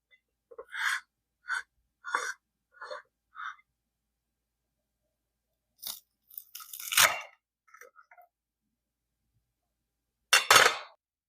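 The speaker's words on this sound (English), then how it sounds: "wanted to hear the crunch of the flawless Tahdig" Crispy Persian tahdig rice crust crunches in a series of short, sharp bursts, close and loud, with quiet pauses between them and a final heavy crunch.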